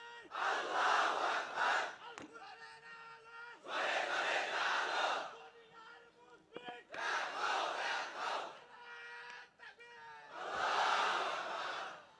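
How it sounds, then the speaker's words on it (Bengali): A large crowd shouts takbir (Allahu Akbar) in four loud, roaring bursts spaced a couple of seconds apart, with brief quieter gaps of murmuring between each collective shout. "এই হলো তাকবীর"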